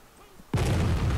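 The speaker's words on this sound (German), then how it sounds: "da schlagen die Granaten ein" Artillery shells impacting in ArmA 3, a quiet lull broken by a sudden heavy boom that rolls on as a dense, rumbling blast.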